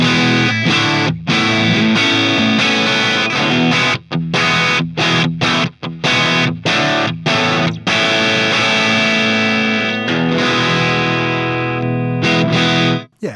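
Electric guitar played through a VS Audio Royal Flush overdrive pedal into a Dr Z Remedy amp, loud and continuous with distorted sustained chords and single notes, broken by short pauses and stops, with no voices.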